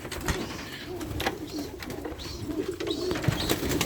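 Several pigeons coo repeatedly nearby, soft throaty calls overlapping in a loose rhythm against light rustling and background noise.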